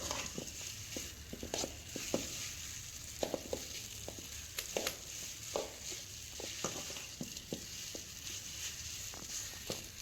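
Greens (keerai) sautéing in a pan, a steady soft sizzle with scattered scraping clicks of a spoon stirring, close and continuous throughout.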